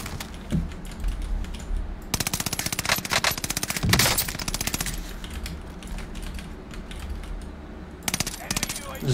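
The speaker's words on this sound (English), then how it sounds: "I don't know where they're shooting from." Rapid gunfire bursts in an online shooter video game, quick repeated cracks in several bursts mixed with keyboard clatter and occasional player chatter.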